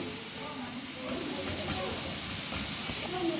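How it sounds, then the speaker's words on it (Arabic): Onions sizzle in a pan on the stove for a potato tray dish, a steady loud hiss and crackle running throughout, with a voice talking over it. "البصل على النار"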